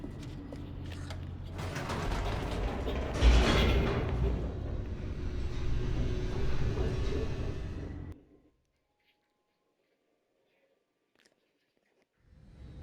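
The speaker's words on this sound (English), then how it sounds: "The elevator raced downward, plummeting towards an unknown fate." Elevator descending in The Stanley Parable, a steady mechanical rumble with creaks that runs loud for about eight seconds, then cuts to near silence before a brief return at the end.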